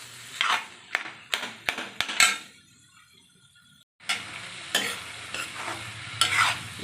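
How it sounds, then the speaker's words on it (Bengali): Masoor dal lentils frying in a pan, with a series of sharp scraping stirs and spoon clinks over a soft sizzle, a brief quiet pause, then more stirring. "ডালটা আমার ভাজা হয়ে গেছে,"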